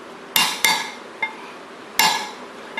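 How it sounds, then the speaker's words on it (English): Hammer tapping steel dowel pins into a 427 Cobra flywheel for the clutch: four sharp metallic taps, two close together, a lone lighter one, then a final solid strike, each with a short ringing decay, no talking. "I'll drive in 3 dowel pins for the clutch"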